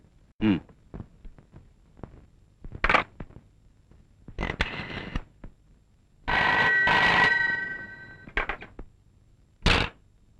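A telephone bell rings in one sustained burst, surrounded by scattered clicks and knocks in a quiet room.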